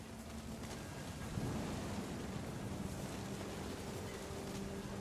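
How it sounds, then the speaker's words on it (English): Storm ambience from the video game What Remains of Edith Finch: a dense, steady roar like heavy rain or surf, with a soft low rumble of thunder beneath it and a faint tonal hum, heard continuously and without speech. "The thunder sounded much too close and full of angry power."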